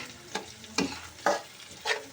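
Four separate spoon strokes scrape through onions, cashews and raisins frying in a kadai, each a short clattering stir over a faint, steady sizzle, close and fairly quiet.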